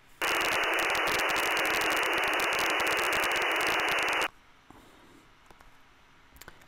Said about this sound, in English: It sounds like this is static coming out of a handset.